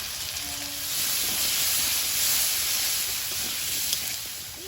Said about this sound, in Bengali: কড়াইতে আবার তেল দিয়ে দেব এবার আলুটা ভেজে নেব